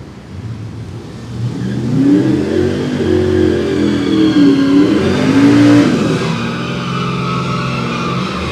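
Drag racing cars, a Pontiac and a Camaro, accelerating down a Florida dragstrip, engines roaring and rising in pitch as they launch and pull away, loud and sustained over several seconds.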